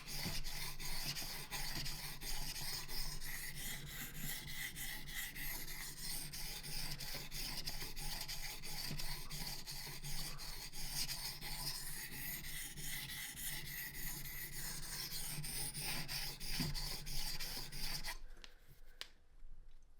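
A bushcraft knife blade stroked across a whetstone with light pressure, a steady, fine rhythmic rasping that repeats close and quiet for about eighteen seconds before stopping.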